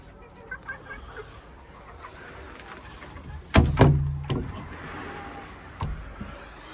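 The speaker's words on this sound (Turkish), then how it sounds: "İki tane horoz var, tavuk var burada." An İspenç rooster crows loudly nearby, followed by scattered soft clucks and calls from hens in an open outdoor space.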